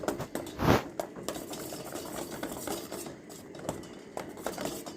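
Utensil scraping and clinking through a thick mixture of rice powder, oil and melted soap base, with one louder clink near the start, then steady soft stirring scrapes, close and moderately quiet, with no voices.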